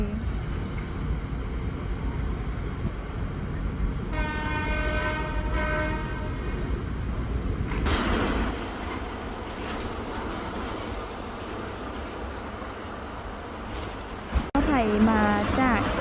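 A train at Thanaleng–Nong Khai railway station sounds a long, steady horn over a background rumble, followed by rolling rail noise and clatter, with people talking through much of it.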